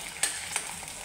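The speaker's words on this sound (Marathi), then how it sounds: "आता मी भेंडी सगळी तळून घेते" Okra pieces fry in hot oil over a low gas flame, a soft continuous sizzle broken by a couple of brief sharper crackles.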